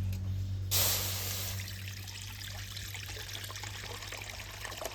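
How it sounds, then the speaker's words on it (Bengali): Water is poured into a kadai pan while cooking a Bengali recipe. A sudden gushing splash starts just under a second in, then settles into a steady, hissing pour that keeps going to the end. "এবারে কড়ার মধ্যে জল দিয়ে দেবো"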